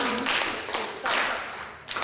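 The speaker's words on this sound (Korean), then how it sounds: "박수 네 번 한번 쳐볼게요" At a piano pedagogy conference, an audience claps together in a rhythm exercise. A few loud group claps land in clear, separated bursts with quiet gaps between them.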